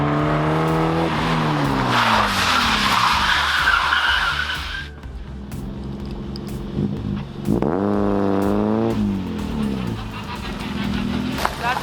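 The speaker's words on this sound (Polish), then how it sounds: "rozpędzacie się, hamujecie w podłogę" Front-wheel-drive car braking hard to the floor on a test run, tyres skidding in a loud drawn-out screech for several seconds, then engine revving rises and falls with further tyre noise.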